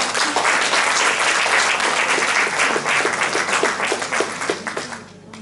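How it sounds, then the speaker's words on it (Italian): An audience at an Italian Christmas concert of traditional songs applauds a doctor from the association's board, a dense burst of clapping that thins out and fades toward the end. "Un bel applauso."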